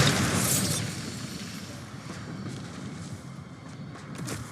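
A Bombarda blasting spell explodes in Hogwarts Legacy: one loud booming burst at the start that trails off into a lingering rumble with faint debris.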